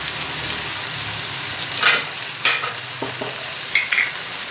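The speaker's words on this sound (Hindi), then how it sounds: "इसको अच्छे से फ्राई कर लेना है, मिक्स करके इसको कवर करके हल्की आंच पे थोड़ी सी देर के लिए पकाना होगा।" Fish chilli garlic masala with added chili sauce fries in a pan, giving a steady close sizzle broken by several scraping stirs of a spoon, with no talking.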